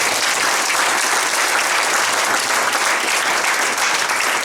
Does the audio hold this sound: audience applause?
yes